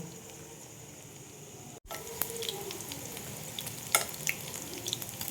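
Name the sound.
paneer pieces frying in oil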